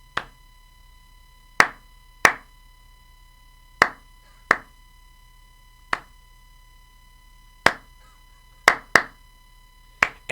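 About nine sharp hand claps land at irregular intervals with no steady beat, crisp and close, each ringing out briefly over a faint constant electronic tone.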